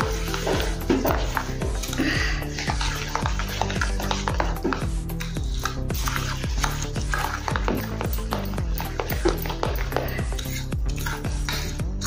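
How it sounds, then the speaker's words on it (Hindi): A spoon stirs and mixes ingredients in a metal pan, making rapid, rhythmic scraping and clinking strokes, close and steady throughout, with no talk. "और अच्छे से इसको भी हम अभी मिक्स करेंगे।"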